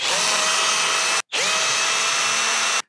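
A power drill backs out Loctite-secured screws on an S2 Atrax kit. It whines steadily and loudly up close in two long runs separated by a brief stop, with no talking.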